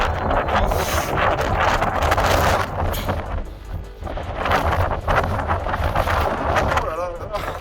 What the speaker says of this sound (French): Désolé, il y a un vent de taré.